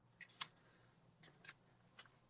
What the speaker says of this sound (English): We're going to cut 1 1/2 inches off of here.